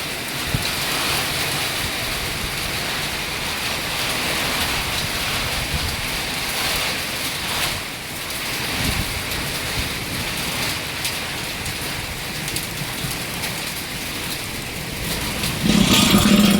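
Heavy monsoon rain pours down in a dense, steady hiss, loud and close and unbroken, with wind gusting through it and a brief knock near the end.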